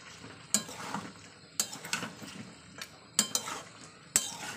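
Chicken kosha being sautéed in a pan brings a quiet background sizzle broken by several sharp metallic clinks and scrapes of a utensil against the pan.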